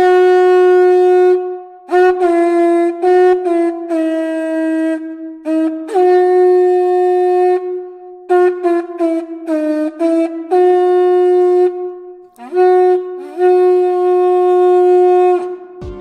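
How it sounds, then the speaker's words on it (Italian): A conch shell horn, presented as Etruscan-era music, blown in several long, steady, buzzy tones with short breaks between, loud and close, each note wavering slightly in pitch. "Questo invece è il suono della mia conchiglia."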